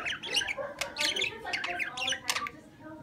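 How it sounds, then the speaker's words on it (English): A pet parakeet gives repeated harsh, bright squawks and chattering calls at close range, in uneven bursts across the moment with no voice over them. "What a cute little bird!"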